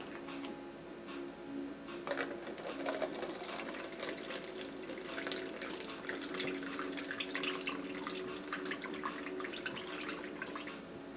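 5 Alive juice pours into a cup in a faint, continuous trickle with small splashy ticks, steady for several seconds.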